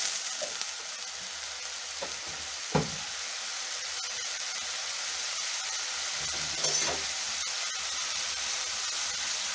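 Two tablespoons of ginger garlic paste fry in oil, producing a steady soft sizzle with a couple of louder stirring knocks and clatters along the way.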